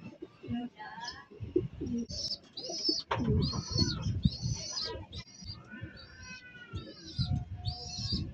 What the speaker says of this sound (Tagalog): Ito na yung mga kalapati natin mga kaibon na 5 piraso nandito na sa loob